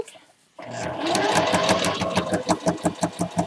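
A sewing machine stitching a pleat on a fabric egg-gathering apron, starting after a brief silence with a fast whirring run, then slowing into distinct rhythmic stitch pulses near the end.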